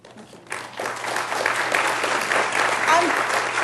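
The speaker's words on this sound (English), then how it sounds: "You're not supposed to clap, remember?" Audience applause at a Philadelphia mayoral forum swells after a quiet start into steady, dense clapping from a large crowd, with a voice talking over it.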